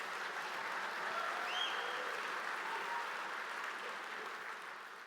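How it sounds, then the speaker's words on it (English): Sustained applause from a conference audience at Kiwicon 10, a dense steady wash of clapping that holds evenly for the whole stretch and tapers slightly at the end. "could I please have a round of applause"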